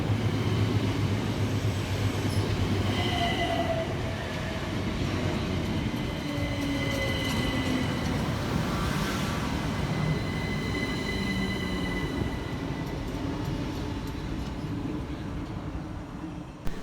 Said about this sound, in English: Next to arrive into the station is 377324 and 377320 with the 1531 Southern Railway service from East Croydon through to London Bridge.